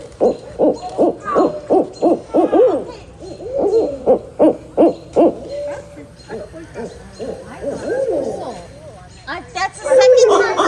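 An owl hoots at a campsite on Wellesley Island, giving a series of rhythmic, fairly close hoots in bursts, with brief pauses between phrases.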